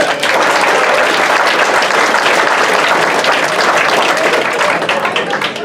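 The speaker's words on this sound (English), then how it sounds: "I want you to give them a round of applause." Sustained loud applause from a reunion audience for the class greeters, dense continuous clapping filling the room without a break.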